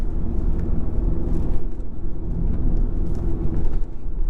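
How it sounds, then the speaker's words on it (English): A 2017 Audi S3 with a turbocharged engine, heard from inside while driving, gives a deep rumbling drone with a few brief pops and crackles on the downshift, loud and continuous with no talk. "Get some nice burbles and little pops and crackles on the downshift."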